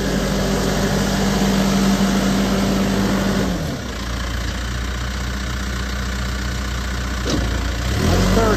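A 2009 Case 580SM Plus II backhoe's diesel engine running in gear, a loud steady knocking drone that dips briefly around a gear change, then settles and builds again.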